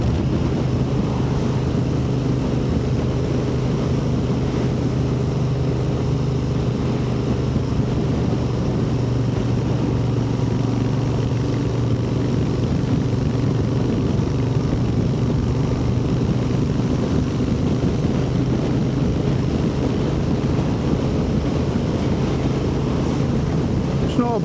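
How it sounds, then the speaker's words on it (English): Steady wind roar buffets the microphone while riding a Royal Enfield Interceptor 650 motorcycle on a dull day, a continuous low rumble with engine drone underneath, loud and unbroken throughout. "Windy on here."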